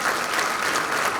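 An audience at the XXXIII Seminario Ushuaia 2019 applauds speaker Claudio Fantini after his lecture. The clapping is dense and steady, loud and close, and continues unbroken throughout.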